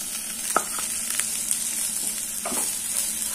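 Cashews, coriander leaves with stems and grated coconut sautéing in a pan, a faint soft sizzle with a few scrapes and stirring touches against the metal, quiet and close, with no speech.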